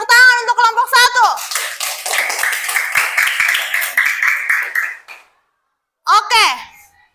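A group of people claps together for several seconds, a burst of applause framed by a speaker's voice just before and after.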